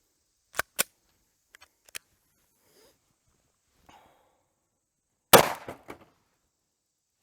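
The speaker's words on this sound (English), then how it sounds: "this is the Gold Dot going through 1/4 inch laminated safety glass." Gunshot from a Speer Gold Dot 124gr +P round fired through 1/4 inch laminated safety glass, heard as a loud sharp blast with some rattle and clatter after it, following a couple of quieter pops and clicks earlier on.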